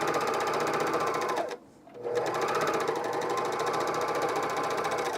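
A domestic sewing machine stitching underwear fabric, a fast steady mechanical whirr that stops briefly for a moment, then runs on at the same even speed, close and loud.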